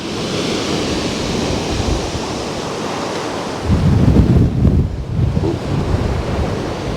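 Windy surf breaking along the Paphos seafront, a steady roar of waves and gusting wind buffeting the microphone, swelling louder with a heavier wave crash midway through.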